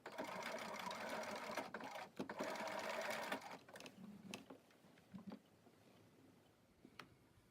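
A sewing machine stitching the underarm and sleeve seam of a kimono, a fast continuous whirring run for a few seconds, then slowing into short bursts and pauses as the fabric is pulled.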